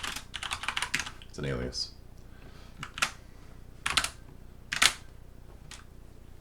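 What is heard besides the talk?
typing on a computer keyboard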